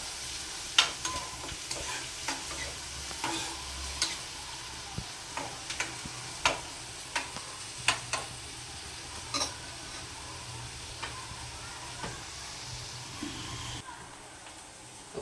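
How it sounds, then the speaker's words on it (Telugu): Onions fry with a soft sizzle in a pan for a taro and egg curry, broken by sharp ticking clinks of a spoon stirring against the pan at irregular intervals, fairly quiet and close. "ఉల్లిపాయలు వేస్తున్నానండి"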